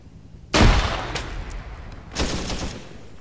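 A sharp grenade blast close by in an outdoor military exercise, one loud burst with a rolling tail and a second weaker report about a second and a half later.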